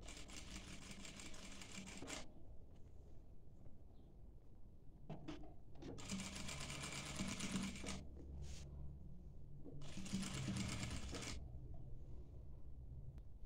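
Sewing machine stitching a dishdasha garment in bursts, roughly two seconds each with short pauses between, loud and close, running alone without talk.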